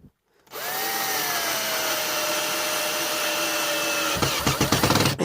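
A power drill driving a countersunk screw deep into a timber longitudinal for a PS5 console unit, a sustained high whine that holds steady and bogs slightly, ending in a few stuttering bursts as the screw seats.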